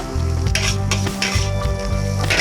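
Egg fried rice made with basmati rice, frying and being stirred in a pan, heard as a loud, steady sizzle broken by repeated scraping strokes of a utensil against the pan, with no talking.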